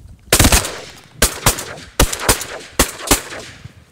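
Shotguns fire during a duck hunt, several sharp close blasts in quick pairs and clusters, loud and punchy with brief echoing tails between them.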